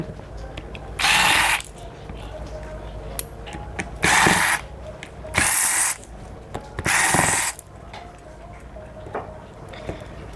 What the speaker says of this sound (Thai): ทีนี้เราก็มาถอดน็อตเลยนะคะ